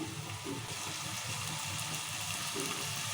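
Steady, close sizzle of a hot pan of oil-fried onions and green chillies as water goes in while making rava upma, with a continuous hiss and bubbling and no talk.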